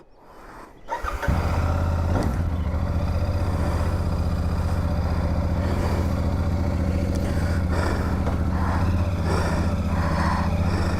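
A loaded touring motorcycle on a Mumbai to Konkan ride fires up after a quiet moment, then settles into a steady, loud, close engine drone with a little mechanical clatter that holds to the end.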